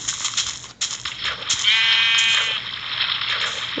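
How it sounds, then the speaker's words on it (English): A sheep bleats in the Pixy craft survival game, a single drawn-out wavering bleat near the middle of the clip, loud and close over steady game background noise. "There's the sheep."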